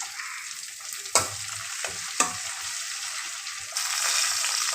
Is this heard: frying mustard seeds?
yes